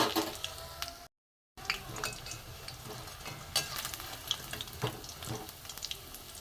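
Cabbage pakoras frying a second time in hot oil until reddish, giving a steady close bubbling sizzle with small crackles and pops, briefly cutting out near the start.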